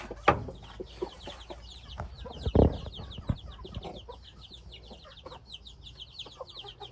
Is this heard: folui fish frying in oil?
no